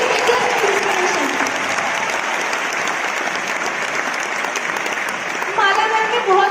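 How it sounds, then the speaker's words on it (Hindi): Loud, sustained applause from an audience at a business success-day event in Ludhiana, steady clapping filling the room for several seconds with faint voices mixed in. "एक बार मैं माला मैम के लिए जोरदार क्लबिंग चाहती हूँ"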